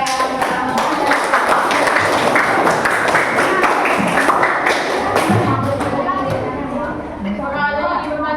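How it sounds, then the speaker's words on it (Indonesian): Classroom applause at a junior high school for the agricultural natural resources group, a burst of many hands clapping that swells and then tapers off, with a teacher speaking over it and children's voices near the end. "Oke, tepuk tangan untuk kelompok sumber daya alam pertanian."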